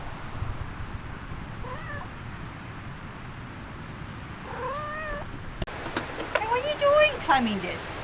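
A cat climbing inside a van camp on a rainy morning gives a few short meows, then a longer wavering run of cries near the end, with rain-like background noise and people talking.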